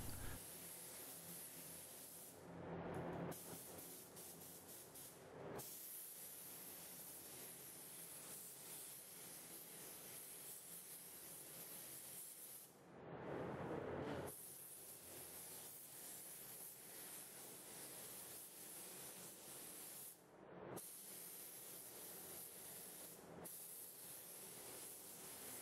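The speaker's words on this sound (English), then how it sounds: "So I'm going to apply it like any other job, just spraying it on medium wet" Clearcoat sprayed onto a car headlight in medium-wet passes, a steady broad hiss of the spray gun running almost continuously with a few brief pauses and small bursts, close and moderately loud.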